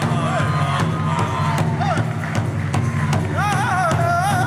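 Crowd applause and cheering at an outdoor festival main stage, with continuous clapping and whoops under a loud amplified announcer and background music.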